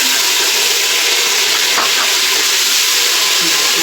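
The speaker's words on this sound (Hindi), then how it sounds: "इसमें हम ज़रा सा भूनेंगे" Tomatoes fry in browned ginger-garlic paste for a Pakistani black lentil curry, giving a loud, steady sizzle with broadband hiss throughout and a brief stir near the middle; no one speaks.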